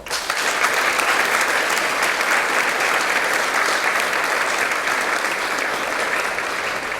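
Sustained audience applause at a school graduation ceremony, dense and even from start to finish with no talk over it.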